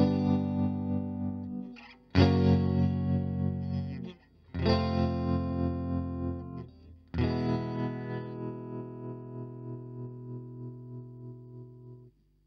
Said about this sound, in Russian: Вообще тремоло слышно нормально, только когда у вас как бы длинные протяжные аккорды.